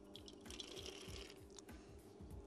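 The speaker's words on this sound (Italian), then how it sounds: "Bolle l'acqua, versiamo le mandorle." Almonds are poured into a pot of boiling water in a kitchen while making torta sbrisolona. The water bubbles and splashes with a busy, dripping texture and soft rhythmic ticks throughout, and no one speaks.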